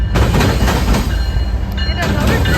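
A Metra commuter train passes close by in Joliet, a loud sustained rumble with rhythmic clickety-clack of wheels over rail joints and faint squealing, with a voice briefly heard over it.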